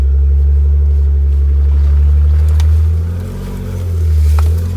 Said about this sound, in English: driving up the trail in 4 high with my locker bypasses on